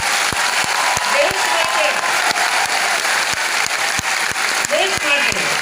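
A gathered audience in Gujarat applauds returning soldier Chandu Chavan with dense, sustained clapping, and a voice speaks over the applause throughout.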